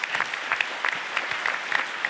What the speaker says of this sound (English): at least an applause for Arno van Kessel.